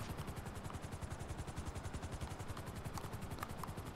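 A helicopter in GTA 5 Online chops steadily and rapidly with a constant rotor beat, sustained and fairly close throughout.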